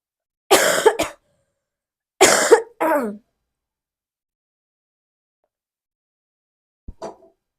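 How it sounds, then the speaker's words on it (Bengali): A person coughs in a quiet indoor setting: a short double cough, a pause, then a pair of harsher coughs, and a faint final throat sound after several seconds of silence. "খালি কাশি এসে পড়ে"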